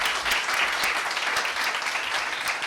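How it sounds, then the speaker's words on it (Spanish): An audience at a health congress session on caring for caregivers gives steady, dense applause. The clapping stays at an even, fairly loud level throughout, with no talk over it. "Les damos un fuerte aplauso"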